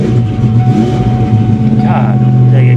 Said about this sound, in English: God, the exhaust is loud.